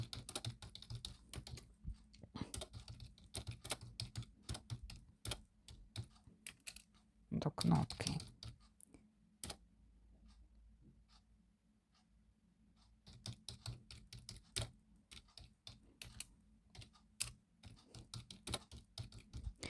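Someone types a prompt on a computer keyboard, a close run of quick, uneven key clicks in bursts with short pauses, alongside a soft voice.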